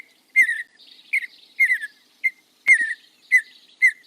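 Mountain bluebird song from central Oregon in spring: a series of short, clear, high warbled phrases repeated about eight times with brief gaps, fairly close and alone against a quiet background.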